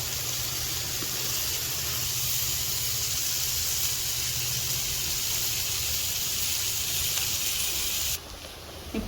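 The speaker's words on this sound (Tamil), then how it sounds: "மீன் மேலே ஊற்றிருக்கேன் மீன் வந்து வெந்துட்டுருக்கு" Kerala-style fish pollichathu frying in oil in a pan, a steady, close broadband sizzle and hiss running without a break and dropping off abruptly near the end, with no talking.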